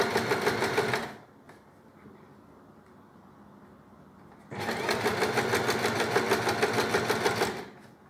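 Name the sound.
sewing machine stitching skirt vent flaps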